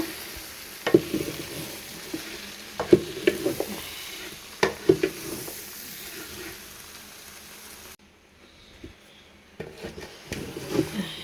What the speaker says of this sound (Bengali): কষাইতেছি আস্তে আস্তে সুন্দর করে সবগুলো নাড়াচাড়া দিছি